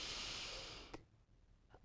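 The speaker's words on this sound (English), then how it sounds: "You can just breathe it out of your mouth." During a breathwork exercise, a long, airy exhale through the mouth sounds close and steady for about a second, then fades into near silence with a faint second breath at the end.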